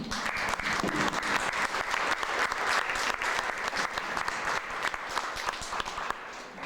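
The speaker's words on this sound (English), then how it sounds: "we'll give them a round of applause." An audience at a hammered aluminum collectors' show breaks into sustained applause, dense clapping lasting several seconds before tapering off.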